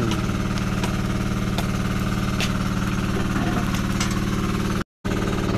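A running engine chugs steadily at an even idle-like pace, loud and close, with a rhythmic mechanical knock throughout and a brief cut to silence near the end.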